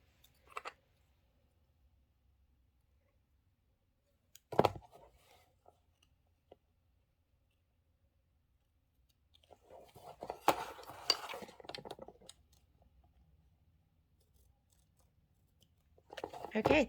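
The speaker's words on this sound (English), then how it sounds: "I am going to have to use a little pair of scissors just to extend that." Small scissors cutting fabric while sewing a Santa cinch sack, a few short snips spread apart, then a longer cutting stretch, in a quiet room.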